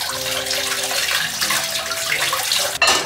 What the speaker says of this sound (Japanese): タイムもちょっと洗っときます